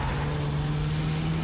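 A Subaru Impreza WRX drives on the Fuji circuit, its engine producing a steady, loud drone with a sustained low tone, close by and alone.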